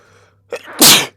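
A single sharp sneeze with a brief intake before it, loud and close in a quiet indoor room during a tabletop role-playing game session.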